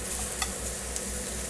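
Garlic and mushrooms frying in oil in a pan, a steady close sizzle with faint stirring scrapes.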